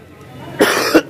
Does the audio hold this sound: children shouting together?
no